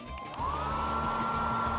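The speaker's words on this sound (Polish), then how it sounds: "Gorące powietrze z suszarki szybko sobie z tym poradzi." A hair dryer switches on and blows hot air onto an ice cube, its steady whining hum rising to a constant close drone after a brief start.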